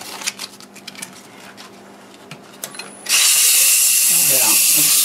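A spinning wood turning on a lathe is sanded with 120 grit sandpaper, starting as a quiet hum and faint talk for about three seconds, then a loud, steady, broadband rush of abrasive friction that holds to the end.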